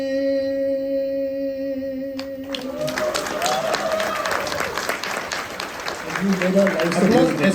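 An audience at a poetry festival bursts into applause after a sustained tone fades. Broad crowd clapping builds and holds for several seconds, and voices rise over it toward the end.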